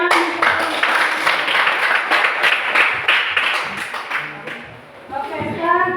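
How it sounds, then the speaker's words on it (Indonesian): A classroom audience claps for a student group closing its presentation during a teacher-training session. The clapping is dense and steady at first, then thins out as a voice starts talking over it. "Tepuk tangan."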